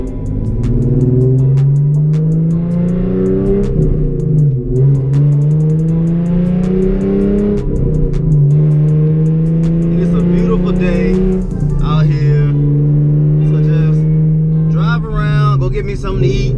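A Hyundai Genesis Coupe with a freshly installed motor drives and revs, its loud engine note rising and falling through several gear changes, with brief speech in places.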